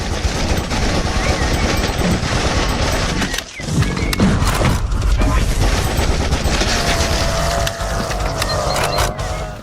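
Rapid hipfire bursts from a gun in a Wolfenstein-style first-person shooter, loud and dense, with near-continuous automatic firing and a brief lull partway through, set against game background noise.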